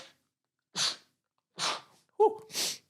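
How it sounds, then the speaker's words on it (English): A person sneezes once, loud and close, preceded by a few sharp audible breaths and a quick gasp, with silence in between. "Oh, and here comes the sneeze."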